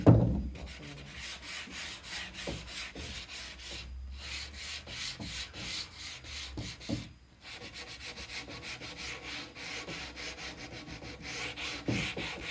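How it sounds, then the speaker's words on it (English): Repeated rhythmic sanding strokes rasp back and forth over wooden furniture edges, close up, with a brief pause midway before the rubbing resumes. "we're gonna start by sanding our edges"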